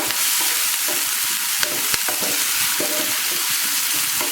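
Ginger garlic paste fries in a pan for bread upma, giving a dense, steady sizzle with repeated scraping strokes and a couple of sharp clicks as it is stirred, close and continuous.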